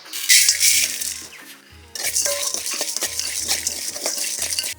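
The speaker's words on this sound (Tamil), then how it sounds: "சோம்பு சீரகம் பட்டை மிளகு கிராம்பு ஏலக்காய் இதெல்லாம் போட்டு இலவரப்பாக வறுத்துக்கலாங்கண்ணே" Whole spices, fennel, cumin, cinnamon, pepper, cloves and cardamom, being dry-roasted and stirred in a pan for goat boti gravy, giving a loud bright rattling scrape that briefly drops off, then resumes steadily.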